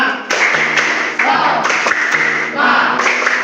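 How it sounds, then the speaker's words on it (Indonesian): A group claps in a rhythmic Indonesian classroom cheer, tepuk semangat, the claps loud and close under shouted group voices. "sekarang kita tepuk semangat dulu ya. Jadi 1, 2, 3, tepuk semangat."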